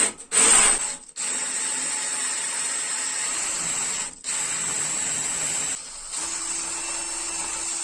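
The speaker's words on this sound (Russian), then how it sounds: "Беру теперь сверло 9 мм и начинаю высверливать по центру." A steady, high-pitched drill whine cuts into material in long continuous runs, pausing briefly twice, with a scraping edge near the start, as a 9 mm bit drills out the center of a broken foam gun.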